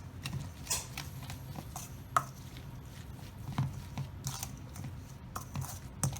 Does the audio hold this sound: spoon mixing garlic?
yes